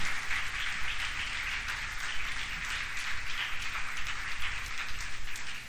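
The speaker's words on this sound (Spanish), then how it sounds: "Dale un aplauso a los padres" A church congregation at a Sunday service applauds the fathers, a steady wash of many hands clapping at once that holds an even level throughout.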